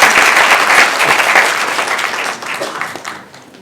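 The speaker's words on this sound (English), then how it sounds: "Let's give him a big round of applause." An audience at a smartphone summit bursts into loud applause for a speaker, a dense wash of clapping that holds steady, then tapers off.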